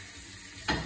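Garlic prawns being stirred in a frying pan give a soft, steady sizzle that swells into a louder burst of frying and scraping near the end.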